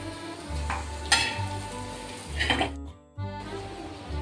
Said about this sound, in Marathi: आणि हे आता आपण थोडं जाडसर थोडे जिरे आणि ही चटणी आपण आता स्लो गॅसवर परतून घेणार आहोत